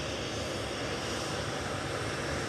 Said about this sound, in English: Lined up and ready to go on 23 left now is GRUKL to Zadar for Ryanair UK